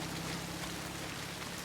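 Rain falls steadily in a TV war drama scene, a dense, even hiss of drops on surfaces, loud and close, with no speech over it.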